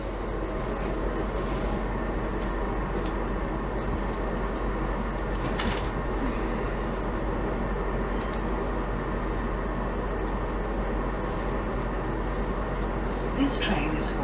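A steady, continuous rumble and rattle heard from inside a moving Class 317 train bound for Stratford, with faint muffled voices at times.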